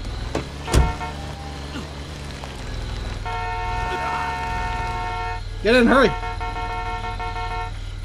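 A car horn toots in Friday the 13th: The Game, a short blast near the start and a warbling honk around six seconds, over a low engine rumble while a voice urges someone to get in.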